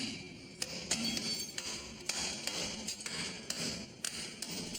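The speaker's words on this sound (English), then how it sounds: "Once the girders are in place, workers slam steel pins through bolt holes." Steel pins slammed through bolt holes in girders on the Cooper River Bridge: repeated sharp metallic strikes at an uneven pace over a constant background of construction noise, with no voices.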